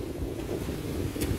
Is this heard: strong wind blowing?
yes